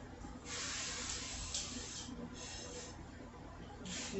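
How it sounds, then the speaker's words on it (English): Several bursts of aerosol cooking spray hiss close by onto a pan, each lasting about half a second to a second, separated by brief pauses over low background noise. "So let me spray my pan."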